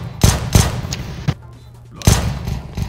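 Gunfire sprayed during a Counter-Strike match: loud separate shots ring out, then a short lull, then more shots resume, close and punchy.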